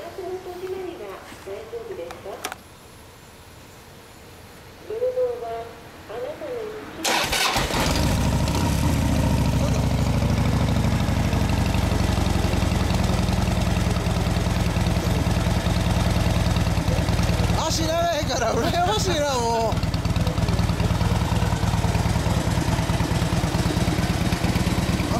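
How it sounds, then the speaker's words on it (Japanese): A 2009 Harley-Davidson FXDF Fat Bob with a Screamin' Eagle muffler starts up and settles into a loud, steady idle with a deep low rumble, after people talk briefly beforehand and a voice speaks again over the engine later. "エンジン音聞かせてもらえますか。"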